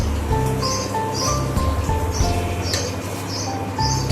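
Mustard seeds and cumin crackle in hot oil during tempering, giving scattered sharp pops and spits over soft background music.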